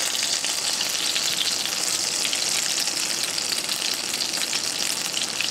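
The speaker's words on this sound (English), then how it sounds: "I'm gonna saute them like this." Crab cakes sauté in a hot pan with a steady, loud, even sizzle that holds for the whole stretch, with no voices over it.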